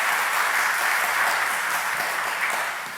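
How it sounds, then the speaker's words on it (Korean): Congregation at a Sunday worship sending-off service gives loud, dense applause, continuous and even throughout without talk. "박수하겠습니다."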